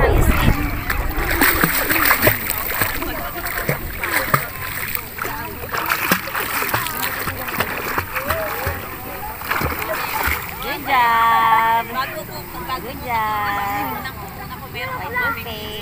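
A small child at a beach paddling with hands and feet, making repeated close splashes in the water while adults talk and cheer over it and other voices babble nearby.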